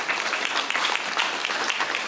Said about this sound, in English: We'll have one more big round of applause for Class 1010 graduating today.